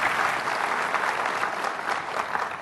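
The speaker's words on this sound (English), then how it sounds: "Please give Wendy a really welcome round of applause" A conference audience in San Francisco applauds steadily to welcome a speaker to the stage, a dense wash of clapping at moderate distance with no break.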